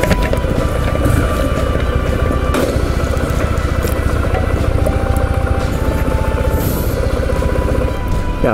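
A Kawasaki W650 motorcycle fitted with its stock muffler runs with a steady, even exhaust thrum and engine drone, continuous and fairly close, with no talking.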